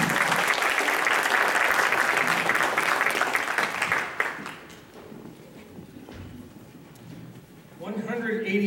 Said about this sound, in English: let's give a nice round of applause to the ghosts of Duffy's Cut